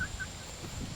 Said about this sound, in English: there's all these roosters in here